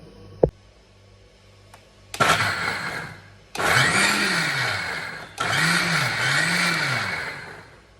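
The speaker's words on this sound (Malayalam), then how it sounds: "അത്യാവശ്യം വെള്ളം ഒഴിച്ചിട്ട് നമുക്ക് ജസ്റ്റ് ഒന്ന് അടിച്ചെടുക്കാം" An electric blender grinds batter with water in three loud, close bursts, the motor roaring up and holding steady each time, with a faint tap and a short pause before the first run.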